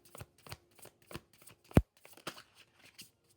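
Tarot cards handled and pulled from a deck, a quiet series of soft flicks and slides with one sharper snap near the middle, close and alone.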